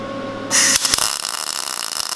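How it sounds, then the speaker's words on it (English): A MIG welder welds a car's bottom plate, starting abruptly with a harsh, steady crackling buzz that holds loud and continuous after a short hum. "now we're gonna use our new MIG welder"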